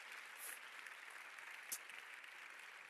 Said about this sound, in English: So again, a big round of applause, I think, for all of the organizations making that happen.